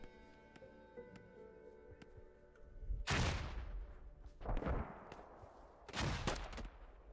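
A grenade blast and gunfire in a military shooter match, starting as quiet distant shots over a humming background, then three loud bursts of explosion and fire in quick succession, with no one talking over them.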